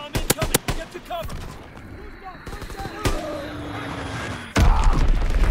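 A bomb explodes in a combat video game, a sudden loud broadband blast near the end following scattered gunfire-like impacts and thuds, with faint voices in the background.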